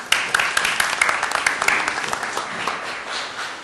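An audience applauds after a presentation at a strategic planning retreat, a dense, steady round of clapping from a roomful of people that holds for several seconds and thins slightly toward the end.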